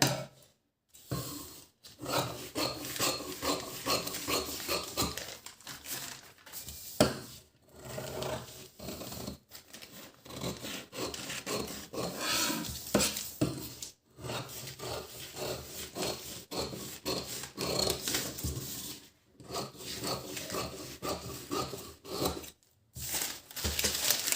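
Scissors cutting blouse fabric at close range, a steady rasping snip and rub repeating in rhythmic strokes, with brief pauses between cuts and no talking.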